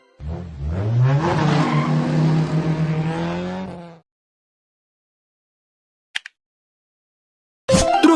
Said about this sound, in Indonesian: Mobil formula.